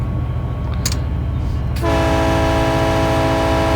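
An older locomotive running with a steady heavy engine rumble, then a loud sustained horn blast begins partway through and holds to the end, close up from the cab, with no talk.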